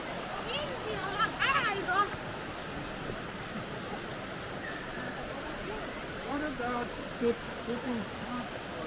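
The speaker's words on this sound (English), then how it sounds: "The sound of the water." A mountain stream near Minoo waterfall in Osaka flows with a soft, steady, faint rush of water, with a few faint voices drifting in around it.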